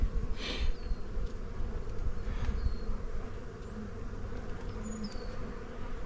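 Honeybees swarm around an open hive after winter, a dense, continuous buzz close by with individual bees droning past now and then, no voices over it.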